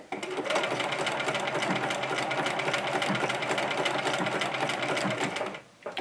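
A sewing machine runs steadily through a zigzag stitch on fabric, its fast even mechanical clatter continuing close and alone for several seconds before stopping abruptly.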